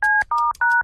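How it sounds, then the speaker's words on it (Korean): Three telephone keypad tones sound one after another as a number is dialed, each a steady dual tone lasting about a fifth of a second with short gaps between, loud and close, with no talking. "잠깐 있어봐. 전화 좀 걸게."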